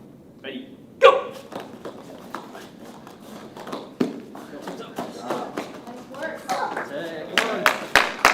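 An audience at a taekwondo sparring demonstration claps and cheers in scattered bursts that grow denser toward the end, mixed with people talking and sharp smacking impacts.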